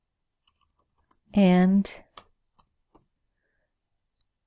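Sparse, quiet clicks and taps on a computer keyboard, scattered single strokes with a brief spoken word in the middle.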